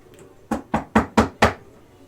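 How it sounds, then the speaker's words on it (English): Five sharp knocks on a door in a steady, quick rhythm, close and distinct against a quiet background. "And you hear a knock on the door."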